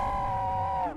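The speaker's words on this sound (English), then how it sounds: "Why did it scream like that?" A monster in the horror video game Zoonomaly lets out a long, loud, shrill scream that holds a steady pitch for about a second, then drops off abruptly.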